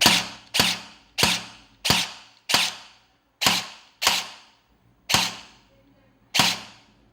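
Nine sharp, snappy pops from an airsoft AKM's gearbox and piston fire one after another at an uneven pace, each with a quick buzzing zip and short decay, close and fairly loud.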